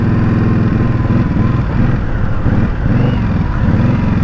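A custom Scout bobber motorcycle in limp mode idles roughly and unevenly up close, its loud, throbbing engine pulsing as it struggles to stay running.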